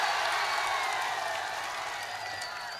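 Thin, scattered applause from an audience at a speech, a soft continuous patter of clapping that slowly fades, distant and unenthusiastic, with no talk.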